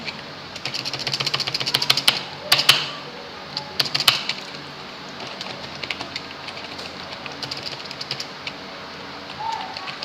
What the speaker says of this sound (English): Right now when I type hello world